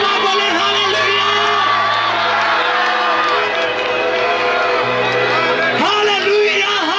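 A large crowd at a Christmas procession shouts and cheers together in loud, sustained waves, many voices calling out at once with a rising surge near the end.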